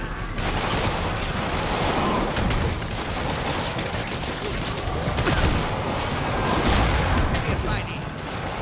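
Continuous dense gunfire from the Spider-Man game, a loud, unbroken roar of shots and blasts filling the whole stretch without letup.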